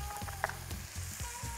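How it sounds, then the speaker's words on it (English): Food sizzles in a hot frying pan where a peppercorn sauce is being cooked, a steady close frying crackle with rhythmic low pulses and a faint tone running beneath it. "You want to hear a sizzle."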